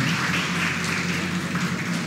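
A church congregation claps together to welcome the pastor, a steady, dense wash of applause from many hands that fills the room without a break.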